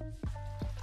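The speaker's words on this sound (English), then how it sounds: "Large tin full of ice. Pour the drink across" Cocktail poured into a large metal tin packed with ice, two short wet splashy plops close by amid a soft liquid trickle.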